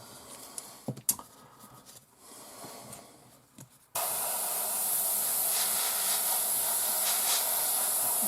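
Airbrush spraying Tamiya paint thinned with X23 thinner onto a 1/72 Airfix Gloster Meteor kit: after a few quiet handling clicks, a loud, steady hiss of spray starts abruptly and holds without a break.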